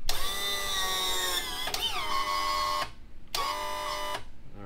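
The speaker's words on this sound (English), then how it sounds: "we're just gonna trim the motor up until we hear the motor bind" A Yamaha outboard power trim motor whines close by in two bursts, its pitch sagging and straining as the trim binds, with a short quiet gap between the runs.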